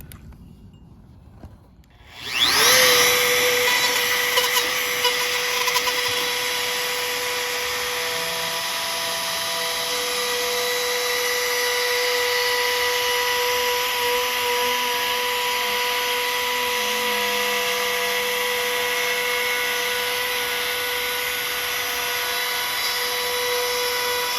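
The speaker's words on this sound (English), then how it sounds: "So we're going to cut those out with a hole saw, and we're going to get the speaker hole with a router" A hole saw and router cut into a plywood cabinet bottom, starting after a brief quiet moment with a loud, sustained high-pitched whine that holds steady and close to the end.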